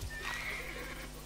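A horse neighing in the Titan Quest video game, a single whinny with a bright pitched cry, close and clear, with faint hoof clip-clop beneath.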